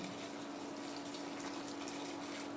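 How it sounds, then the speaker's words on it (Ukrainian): Boiling water poured over two kilograms of chopped peppers, a steady close rushing pour of water with no break, fairly quiet overall. "Заливаємо кип'ятком 2 кг порізаного перцю."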